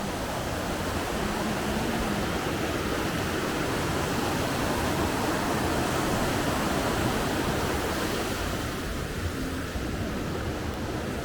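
A river rushes at a backpacking crossing in Olympic National Park, a steady, even roar of flowing water at moderate distance, unbroken and without voices.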